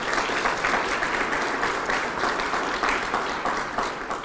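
An audience at a leadership awards ceremony applauds scholarship recipients, a dense, even wash of many hands clapping that holds steady for several seconds.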